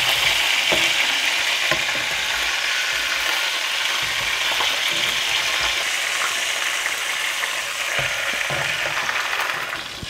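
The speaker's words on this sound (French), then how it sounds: "vais maintenant rajouter juste un oignon que j'ai émincé" A sliced onion goes into a pot of Réunion-style Creole pork roast, raising a loud, steady sizzle with occasional stirring clicks from the pan throughout.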